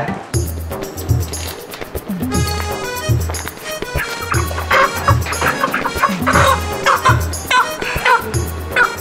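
Chickens cluck repeatedly close by amid a busy, clattering background of thumps and shuffling.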